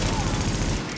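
Dense, rapid automatic gunfire from a rooftop gunner rattles continuously in the video game The Division, loud and close, with a voice speaking faintly beneath it.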